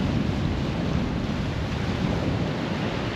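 Seawater rushes into a rugged coastal rock pool with a steady, loud, churning surge and low rumble, continuous throughout with no voices.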